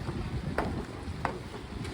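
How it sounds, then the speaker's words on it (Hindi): Steady blustery wind roars across the microphone on a rooftop, a constant rushing broadband noise with a few brief gusty bursts. "और इतनी हवा चल रही थी"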